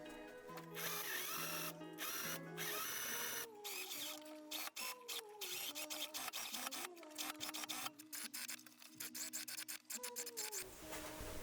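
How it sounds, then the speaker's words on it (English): A sewing machine top-stitches a tulle layer onto a petticoat, its motor running in steady bursts with short pauses between runs, close and fairly loud with no talking. "I then pinned the tulle in place and just top stitched it by machine."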